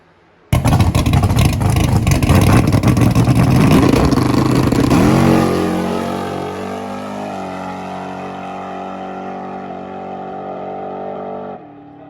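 A HEMI-powered coupe launches on a drag strip with a sudden thunderous engine roar close by, revving hard for several seconds, then the pitch drops as it pulls away and fades into a long, steady distant drone.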